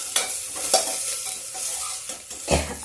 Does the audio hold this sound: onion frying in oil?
yes